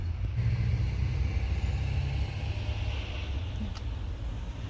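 A Nissan GT-R drives back into a lot, its engine a low rumble that stays steady throughout among general outdoor traffic noise, heard from a distance.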